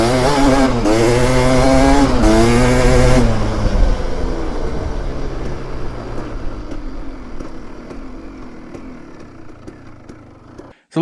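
A KTM 300 two-stroke dirt bike fitted with a Lectron H series carburetor revs loudly and close, its engine note rising and falling in quick blips before fading into a steady, receding drone.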